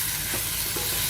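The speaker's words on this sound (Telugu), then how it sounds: "ఇప్పుడు ఈ టమాటోలు కూడా కొద్దిగా మెత్తబడే వరకు ఫ్రై చేసుకోవాలి" Chopped medium tomatoes frying in a pan for a spicy tomato chutney, a brief dense hiss of sizzling oil with a soft stir.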